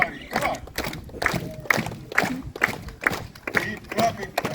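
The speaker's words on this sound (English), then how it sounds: "Clap your hands, everybody." An outdoor crowd at a Samoa presentation at the Polynesian Cultural Center claps hands together in a steady, even rhythm, with many sharp beats at about two per second under a faint background murmur.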